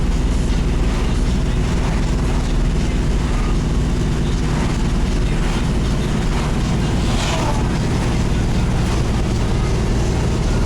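A Chevrolet Camaro cruising a stretch of road near Burtonsville on a Sunday morning: loud, steady engine and road roar with wind buffeting, continuous throughout and without any clear gear changes.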